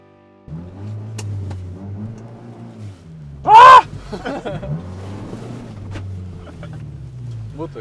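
A modified Renault Twingo set up for off-road use, with mudguards and a raised air intake, drives off through rough terrain. Its engine drones steadily and low, with a brief loud splash or burst partway through and faint voices at times.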